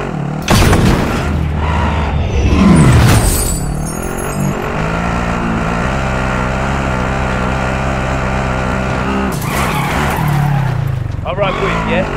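Car driven in the video game Call of Duty Plunder, with a loud steady engine drone, tire squeal and booming impacts near the start and end.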